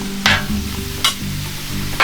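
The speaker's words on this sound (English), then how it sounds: "So this steak is just about done." Steak with peppers and onions frying in a skillet, a loud close sizzle with three bursts of stirring or scraping spaced through it.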